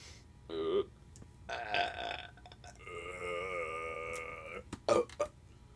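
A long, loud, close burp with a drawn-out tonal middle, preceded by shorter belching bursts.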